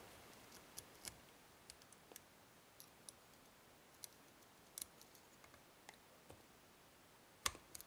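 A Sidese tubular lock gives off faint, sparse metallic clicks and ticks as it is picked, irregularly spaced and very close, with one sharper click near the end and no talking.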